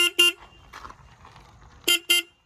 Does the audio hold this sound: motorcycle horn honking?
yes